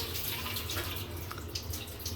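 Steady broadband rush of a hotel shower running, continuous and fairly close with no voices.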